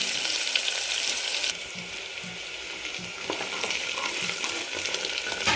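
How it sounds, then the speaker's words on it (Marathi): Onions frying in oil inside a pressure cooker, a continuous close hiss and sizzle with soft stirring sounds, loudest at the start and then settling to a steady level. "थोडासा आपल्याला कलर बदलीपर्यंत कांदा तेलामध्ये परतून घ्यायचा आहे"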